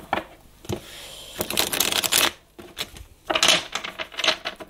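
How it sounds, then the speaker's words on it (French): Cards being shuffled for an archangel Michael card reading, several quick riffling bursts of flapping, rattling paper, close and fairly loud, separated by brief pauses. "j'enchaîne sur un deuxième tirage, cette fois-ci avec l'archange Michael"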